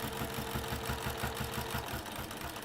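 Rapid, even mechanical pulsing from a sewing machine with a walking foot stitching slowly along a fabric crease, steady and close throughout with no talking.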